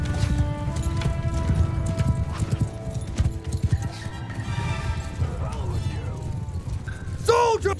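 A horse galloping in Mount and Blade II: Bannerlord, a steady clip-clop of hooves with a whinny, set amid battle clashes and other game sounds. Voices talk over it throughout.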